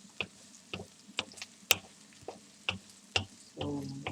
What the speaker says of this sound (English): So we keep going around, like stirring.